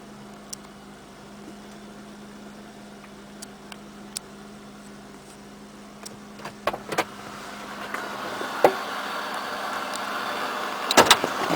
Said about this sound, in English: Yeah, indeed a cold start.